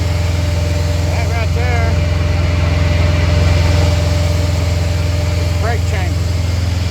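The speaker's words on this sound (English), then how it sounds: "It's gonna be loud. I got my generator running." A running generator engine drones steadily and loudly near a truck's brake chamber, with someone talking over the constant rumble.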